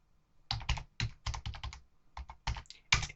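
Fingers type commands into a terminal on a computer keyboard: about a dozen crisp, close key clicks in short irregular clusters, alone in otherwise quiet surroundings.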